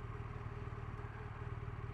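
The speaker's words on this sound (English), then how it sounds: "And although it can be a bit lumpy, it's a really nice engine." A 2017 BMW R1200RT touring motorcycle's engine runs at a steady, slightly lumpy idle, a low throbbing pulse heard close and fairly quiet with no voices.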